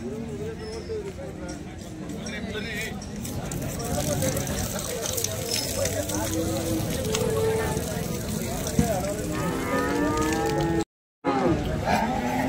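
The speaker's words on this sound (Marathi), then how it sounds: "आता आपण ही गाय कव्हर करतोय" Cows at the Sangola cattle market low and moo amid a busy crowd, with people talking over the animals and occasional hoof clops; the din runs continuously with one brief dropout near the end.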